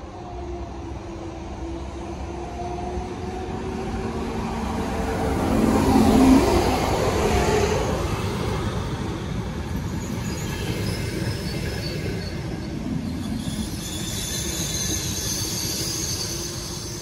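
A train passing through Bologna's high-speed railway station, a long steady rumble of rolling wheels that swells toward the middle and then fades, with squealing tones and station ambience, no voices.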